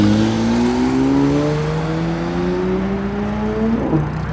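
A supercar, a 3RS, pulls out of a cars-and-coffee meet, its engine note rising steadily through the gears nearby with a loud, sustained droning roar before easing off at the end.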